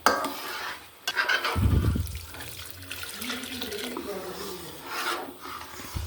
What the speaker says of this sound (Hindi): और अब मैं इसमें थोड़ा सा पानी डालूँगी।